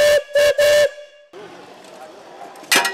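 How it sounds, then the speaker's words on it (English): Steam whistle of a 1906 Russell steam traction engine at an antique machinery fair: three loud, sharp toots in quick succession, then a hissing, rumbling engine and a final short whistle blast. "That's a 1906 Russell steam engine, traction engine."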